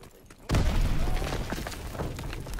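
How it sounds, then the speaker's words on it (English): A grenade explodes in the World War II shooter game Call of Duty WW2 with a sudden, loud boom, followed by a sustained rumbling roar that slowly fades. "That was a good grenade throw."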